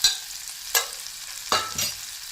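Green chilies, chopped ginger and dried red chilies frying in a pan for pickled potato sabzi, with soft sizzling broken by a few sharp stirring scrapes, fairly quiet and close, no talk.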